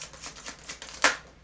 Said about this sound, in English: Let's pull an oracle card.